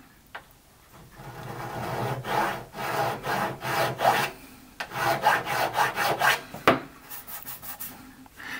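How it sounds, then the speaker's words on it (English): A medium sanding stick rubs back and forth across a wooden model ship hull, giving dry rasping strokes in irregular bursts, close and fairly quiet, with no voices. "I can start using maybe the medium sanding stick."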